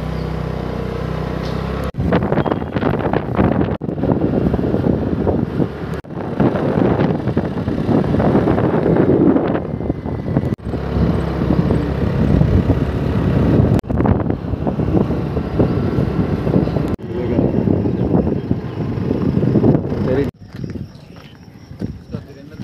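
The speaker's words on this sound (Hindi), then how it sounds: "मस्त हवा चल रही है एकदम ठंडी ठंडी।" Loud wind buffets the microphone in long rumbling gusts, broken by a few abrupt cuts, with clopping and traffic faintly mixed in.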